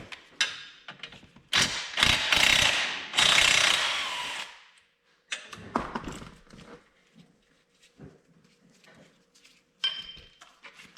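A ratchet working on a seized swing arm bolt of a Honda ATC 250R three-wheeler: bursts of clicking and metallic clatter with short pauses between, close by, no talking.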